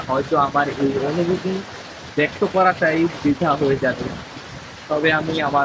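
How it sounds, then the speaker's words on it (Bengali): Heavy rain and wind outdoors form a continuous hiss beneath a person speaking almost nonstop, with the downpour audible mainly in the short pauses. "বাইরে অনেক জোরে বৃষ্টি"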